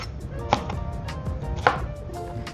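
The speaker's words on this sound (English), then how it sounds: "and just roughly chopping it up" A knife roughly chopping a vegetable with its seeds removed, steady quick taps on a board with two sharper strikes, close and alone.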